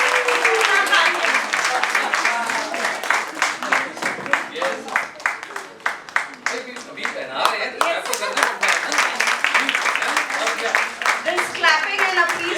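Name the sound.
audience applause at book launch celebration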